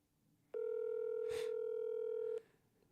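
A telephone call tone: a single steady, loud electronic tone holds for nearly two seconds, then cuts off abruptly, with a brief noisy burst midway and quiet background around it.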